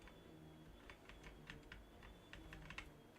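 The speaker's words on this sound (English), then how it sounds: "Did you hear the keyboard clicks?" Computer keyboard keys click in quick, uneven bursts while a Digimon Super Rumble game is played, the taps close and fairly soft over a low steady background hum.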